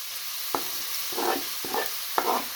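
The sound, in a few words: grated turnip added to pan, frying and stirring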